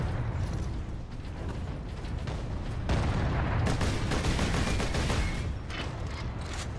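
A bolter pistol firing in Warhammer 40,000: Space Marine, dense repeated shots and mechanical clatter mixed into a loud, continuous battle din with no pause.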